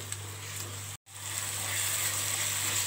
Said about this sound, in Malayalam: ആ ഇഞ്ചിയുടെയും തക്കാളിയുടെയും വെളുത്തുള്ളിയുടെയും ഒക്കെ മണം മാറുന്നവരൊന്ന് വഴറ്റി കൊടുക്കാം